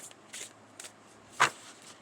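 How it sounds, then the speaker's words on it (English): A tarot card deck shuffled in a few quick bursts, soft papery riffles with one sharper snap near the end, close and fairly quiet with no talking. "I'm going to give this deck a quick shuffle"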